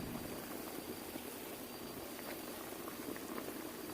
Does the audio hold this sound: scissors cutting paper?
no